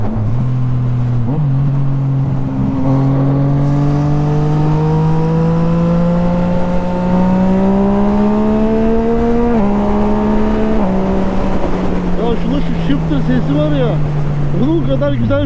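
A 1000RR motorcycle engine holds high revs in a loud, continuous close-up drone, its pitch climbing slowly, then dropping in a couple of steps and sagging toward the end.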